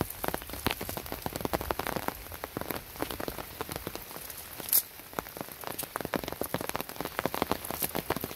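Monsoon rain falls steadily on surfaces near a spot where small fish and shrimp are being caught with a net, a dense, even patter of drops with scattered sharper splats throughout.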